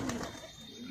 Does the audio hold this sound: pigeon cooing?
yes